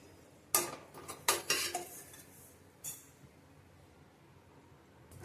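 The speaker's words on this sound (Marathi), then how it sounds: "खसखस भाजत आले बघा, काढून घेऊया." Poppy seeds roasting in a pan are stirred and scraped, a few sharp metallic clinks and scrapes close up early on, then near silence apart from one later knock.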